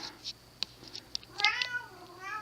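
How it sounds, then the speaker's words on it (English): Quiet indoor cat meowing close by, a few faint short cries and clicks leading to a clearer drawn-out meow, with no talking. "you can see my cat crying at the camera"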